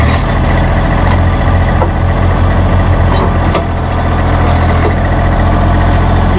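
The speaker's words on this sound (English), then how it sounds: "I can start the tractor and raise and lower." A diesel tractor engine idles steadily and loudly, a constant low rumble with occasional faint clanks over it, no voices; the tractor has a RhinoAG FA513 finish mower attached.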